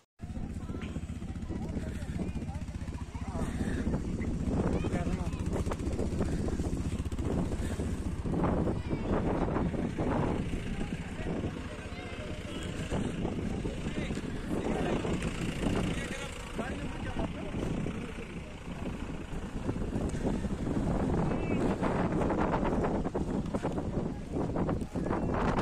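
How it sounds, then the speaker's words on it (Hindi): Strong wind roars and buffets constantly across a snowy Rohtang Pass, a steady loud rush that persists throughout while people talk over it. "बहुत तेज़ हवाएं चल रही है"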